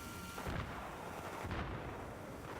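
Gunfire exchanged during a competitive online shooter match set in a World War II German-versus-Allies game, with a dense, steady barrage of shots and booming blasts rolling on without pause across the clip.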